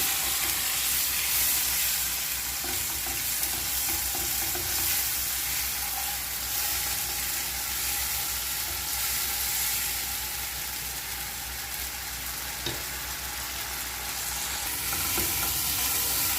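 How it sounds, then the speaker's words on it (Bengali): Cumin paste masala with salt and turmeric sautéing in a pan, a steady close sizzle and hiss with occasional scrapes of stirring running throughout, no voices. "দিয়ে দিচ্ছি জিরে বাটা মশলাটা ভালো করিয়ে কষে নিচ্ছি"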